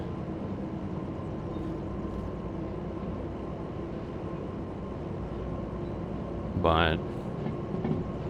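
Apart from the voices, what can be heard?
locomotive pulling out, from video game Derail Valley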